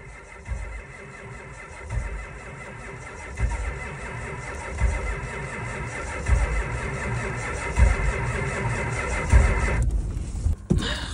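A Ford 6.9 IDI diesel engine cranks over and catches, then settles into a rough, uneven idle with throbbing low pulses, close and loud, all the way through.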